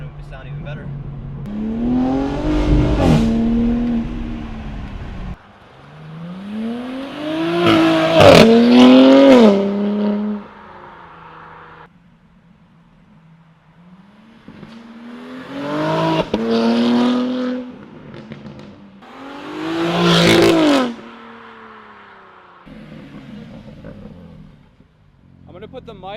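A BMW G80 M3 with an aftermarket exhaust revs up hard in four separate loud, close bursts, each rising and falling in pitch, with short idle gaps in between.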